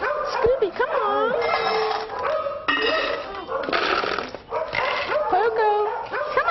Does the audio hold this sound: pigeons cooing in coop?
no